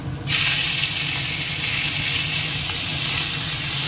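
Shrimp, a dried red chili and radhuni seeds hit hot oil in a pan, and a loud sizzle bursts in almost at once and keeps up a steady, close hiss to the end, with no voices.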